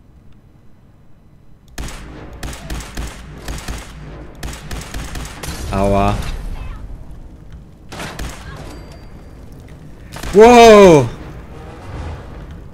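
Bursts of rapid gunfire crackle in Fallout 4, with short volleys separated by pauses, a louder blast near the end, and a voice briefly exclaiming.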